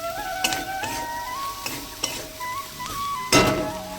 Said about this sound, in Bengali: হলুদ দিয়ে ভালো করে নাড়িয়ে নেব।